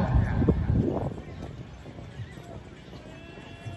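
A horse gallops at a village tent pegging (neza bazi) event in Jhelum. Rapid hoofbeats thud up close at first, then fade as it moves away, under an announcer's talk over the field.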